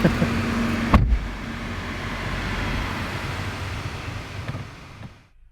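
A car with air conditioning drives through a hot residential neighbourhood, its steady engine and road rumble running throughout after a short thump near the start, then fading out at the end.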